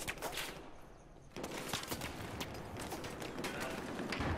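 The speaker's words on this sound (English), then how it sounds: "The guy's shooting at me." Faint, distant Battlefield 4 gunfire rattles in continuous bursts through a busy, noisy battlefield background.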